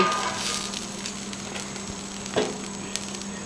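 A birria taco crisps in a hot pan with a steady, soft sizzle up close, broken by a couple of faint clicks or taps of the utensil, with no voices.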